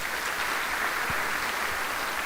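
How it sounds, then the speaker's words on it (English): Audience applause at a senior scholarship and award event, honoring a man's dedicated years of service; steady, dense clapping from a crowd fills the whole moment at moderate level with no voices. "let's give Mr. Mike Finseth a round of applause."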